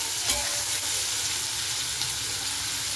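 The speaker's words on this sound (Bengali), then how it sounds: "একসঙ্গে ভেজে নিচ্ছি, আর ফোড়ন দিয়ে দিয়েছি তেজপাতা শুকনো লঙ্কা" Soybean chunks and pointed gourd fry together in oil tempered with panch phoron, bay leaf and dried red chilli, giving a steady close sizzle with occasional stirring clinks throughout, no voices.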